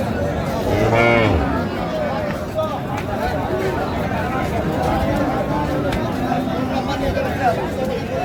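A cow with her calf at Raniganj cattle market in Dinajpur gives a single loud moo near the start, surrounded by a dense crowd hubbub and nearby talking that continues throughout.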